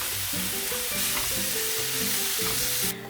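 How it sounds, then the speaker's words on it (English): Pork and vegetables stir-fry with garlic, salt and pepper in a hot pan, a loud continuous sizzle with a tonal hum underneath, cutting off abruptly near the end. "Stir-fry the pork and vegetables with garlic"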